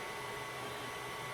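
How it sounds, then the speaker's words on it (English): Steady whir of an Ender 3 Pro 3D printer's cooling fan with its stepper motors running underneath, a constant close mechanical drone with no pauses. "The fan's actually louder than the stepper motors that actually move the head around"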